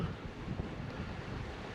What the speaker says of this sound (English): Hear the water, the breeze coming through the rock